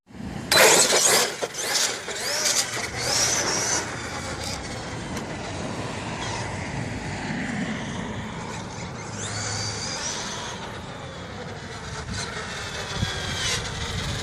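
A LOSI LST 3XLE electric RC monster truck drives over rough ground, with a whining motor, rattling and crunching over terrain, and bumpy knocks at moderate distance.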